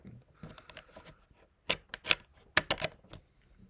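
A computer keyboard is typed on in a few scattered bursts of sharp clicks, louder and denser toward the end, with a faint voice now and then in the background.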